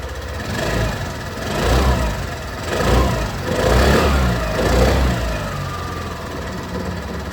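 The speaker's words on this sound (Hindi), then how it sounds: "जो एग्जॉस्ट साउंड है वो भी मैं सुना दूँ। स्टार्ट करते हैं यहाँ पर एक्सेस के साथ।" A Suzuki Access 125 scooter fires up and its exhaust settles into a steady mid-pitched idle, with a few throttle blips swelling and fading across several seconds. No one speaks over it.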